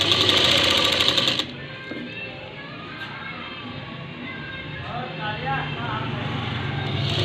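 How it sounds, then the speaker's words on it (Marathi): A sewing machine runs loud and steady for about a second and a half while stitching a folded blouse sleeve hem, then stops, leaving quieter room sound and a little distant talk. "त्याच्या वरून शिलाई मारून घ्यायची"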